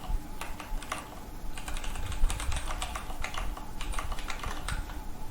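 Close, rapid keystrokes on a computer keyboard while code is typed, coming in steady clattering bursts with brief pauses and no talking.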